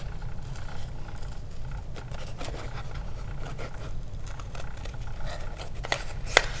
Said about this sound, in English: So I'm gonna cut out along my template line